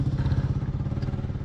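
A four-wheeler ATV engine runs close by on a farm, a loud, steady pulsing putter with no voices over it.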